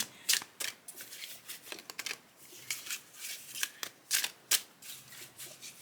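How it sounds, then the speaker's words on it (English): Tarot cards are shuffled in quick, soft riffling bursts, irregular flicks and slaps close by with no voices. "Now we are going to shuffle again and pull another card"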